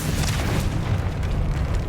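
A Confringo spell from Hogwarts Legacy detonates with a dense, booming blast that fills the whole short moment, loud and close with no talk over it.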